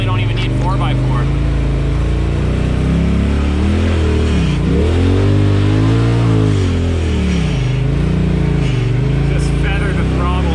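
A Polaris RZR side-by-side climbs a trail, its engine revving and droning up and down in pitch as the throttle is feathered, loud and close, with a voice talking over it.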